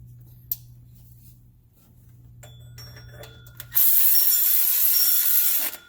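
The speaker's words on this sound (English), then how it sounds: "Put the nut on, tighten that down." A hand ratchet tightens a nut onto the stud of the tensioner pulley on a 2004 Toyota Tundra, starting quietly and turning into a loud, steady, close-up run of rapid clicks for the last couple of seconds.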